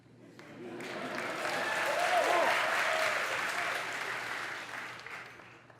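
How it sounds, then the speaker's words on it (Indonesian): An audience at Georgetown University in Washington, D.C. applauds at a presidential public lecture, the clapping building to a dense, loud roar mid-clip and then gradually thinning, with faint voices calling out underneath. "Tepuk tangan untuk Georgetown Uni."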